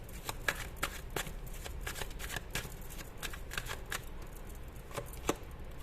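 A tarot card deck is shuffled by hand, producing repeated quick riffling snaps and soft slaps in an uneven rhythm, close and quiet with no talk.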